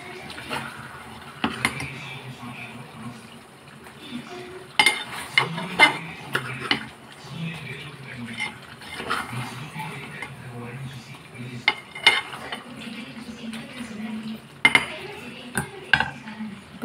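Spoon stirring a cooked chicken curry in a pot on the stove, repeated metallic scrapes and clinks against the pot in an irregular rhythm over a soft background, close and moderately loud.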